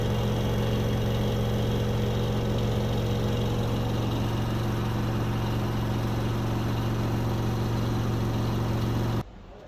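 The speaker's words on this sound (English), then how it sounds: "So we are on non-stop spin, 1400 revolution per minute." An LG washer dryer combo runs a continuous 1400 rpm spin cycle, giving a steady, loud droning hum with a constant low tone that holds evenly for about nine seconds before cutting off abruptly.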